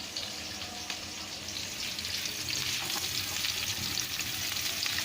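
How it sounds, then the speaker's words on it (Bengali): Onions browning in olive oil for a doi rui dish crackle and sizzle vigorously, a bright continuous hiss that swells slightly while being stirred, close and alone. "পেঁয়াজটা আমি একটু বাদামি বাদামি করে এটা আমি ভাজবো।"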